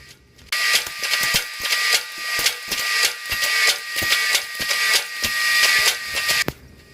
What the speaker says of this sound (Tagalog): ang ginagawa namin ngayon ay binubutasan namin itong mga bakal na nasa paleta